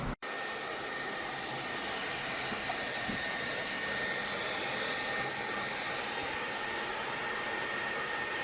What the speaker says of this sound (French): on va venir donc aspirer là et aussi venir aspirer vraiment sur les côtés, les petites aérations